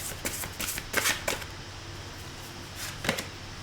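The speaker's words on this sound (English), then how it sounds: "let me get for you now an oracle card from the Animal Spirit deck" A deck of animal spirit oracle cards being shuffled, soft riffling and slapping bursts in quick clusters, close and quiet with no talk.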